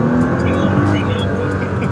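A Nissan GT-R sports car's engine while driving, a steady loud low drone heard from inside the car, with faint voices underneath.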